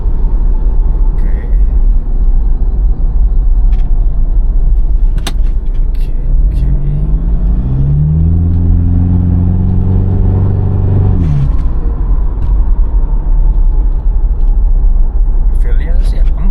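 A Toyota Fortuner VNT diesel with a 2KD engine pulls away under throttle, its loud low rumble climbing steadily in pitch through the gears, then settling back to a steady cruise drone with occasional talk over it.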